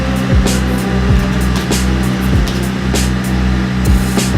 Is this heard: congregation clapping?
no